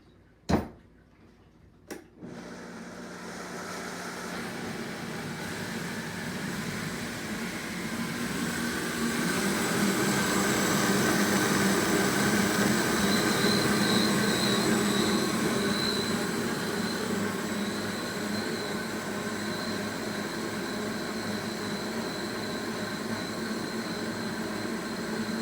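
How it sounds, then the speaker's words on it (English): A kitchen blender runs until its contents are smooth, starting after a couple of sharp clicks, then a steady loud whirring motor roar that swells slightly midway and holds to the end. "And now I'm going to blend it. I know that some of you don't like the sound of a blender"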